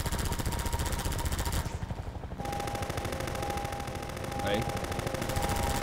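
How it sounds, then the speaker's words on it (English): Rapid automatic gunfire from the video game Half-Life 2 rattles loudly and almost without pause, with one short break, while a voice briefly calls out over it. "Oh, you're firing."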